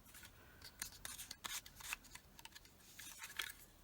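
Scissors cut through card for a Halloween card, a few close, crisp snips and rasping slices in quick bursts, with quiet handling between them.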